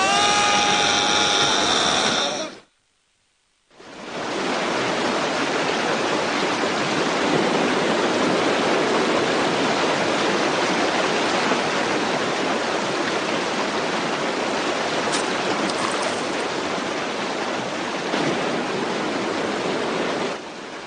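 A waterfall roars in an animated western cartoon, a loud, unbroken broadband rush that briefly cuts out near the start and then carries on without any talk.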